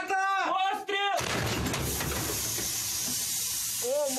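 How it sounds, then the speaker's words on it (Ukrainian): Artillery gun fires a single loud shot at close range during frontline combat in the Bakhmut direction, a sharp blast followed by a long roaring, hissing decay, preceded by shouted voices and with a voice briefly heard at the end. "Гармата! Постріл!"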